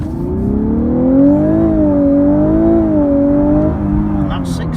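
A 2017 Lexus LC 500h hybrid V6 coupe in sport mode pulls hard through the gears. Its engine note rises and falls in a loud, smooth, continuous drone heard from inside the car.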